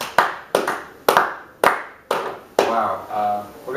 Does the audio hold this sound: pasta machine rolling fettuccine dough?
no